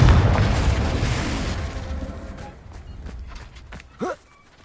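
A Confringo fire spell bursts in Hogwarts Legacy on PS5 with a loud booming blast that decays into a rumbling crackle, followed by a short sharp pop near the end.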